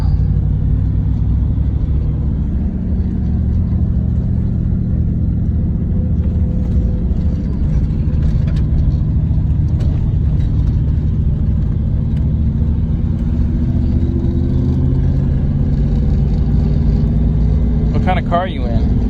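A GTA Trans Am with a manual transmission drives steadily, its low engine rumble and road noise continuous and close throughout, with a faint brief squeak near the end.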